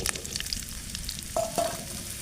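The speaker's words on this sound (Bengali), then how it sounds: "এর ভিতরে শাপলাটা দিয়ে দেবো।" Water lily stems sizzling in hot oil in a wok, a steady close frying hiss with a couple of brief scraping stirs, no talking.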